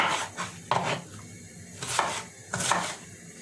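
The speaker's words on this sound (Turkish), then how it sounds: "Şöyle patatesimi de kesiyorum." A knife cutting a potato on a board during home cooking: several crisp, close chops come at an irregular rhythm, with no talking.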